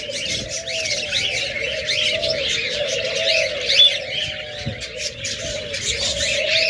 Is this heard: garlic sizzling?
no